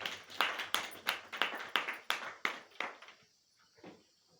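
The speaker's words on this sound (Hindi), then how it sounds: "एक बार जोरदार ताली होनी चाहिए" A small audience claps in roughly a dozen sharp, evenly spaced bursts at a motivational business talk, fairly close and moderately loud, tapering off into a few scattered, fainter claps before fading out.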